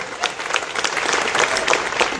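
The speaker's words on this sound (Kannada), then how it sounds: "ಇನ್ನೊಂದು ಜೋರಾಗಿ ಚಪ್ಪಾಳೆ ಹೊಡೆಯಲಿ" An audience at a public speech in Ugar Budruk, Kagwad taluk, breaks into dense, sustained applause that stays steady and fairly loud throughout.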